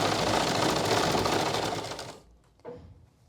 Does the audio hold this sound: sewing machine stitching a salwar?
yes